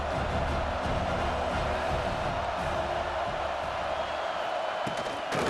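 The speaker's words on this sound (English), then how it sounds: "this crowd is turning it up a notch" Dense stadium crowd roar from a College Football 26 game, South Carolina versus Auburn, a loud, steady wash of cheering that swells slightly and holds throughout.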